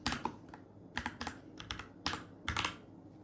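Python code being typed on a computer keyboard, with irregular clusters of close, distinct key clicks over a low steady background hum.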